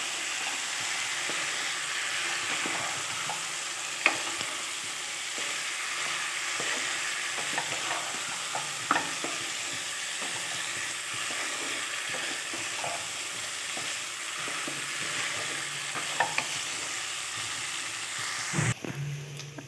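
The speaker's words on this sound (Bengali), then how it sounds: "আলুটা ভালোভাবে কষিয়ে নিয়েছি, কষানো হয়ে গেছে।" New potatoes being sautéed for alur dom, sizzling steadily in a pan with repeated scraping stirs and occasional clinks of the spatula, close and continuous throughout, no talking.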